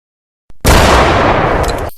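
A gunfire sound effect in a school drama battle scene, one short pop followed by a loud sustained roaring burst of blasts for over a second that cuts off abruptly, with no voices.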